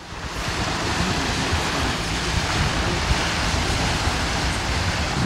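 A wind gust and lapping waves surround a Dinamica 940 daysailer yacht under sail, a loud, steady broadband rush of air and water that builds slightly after the start and stays dense throughout.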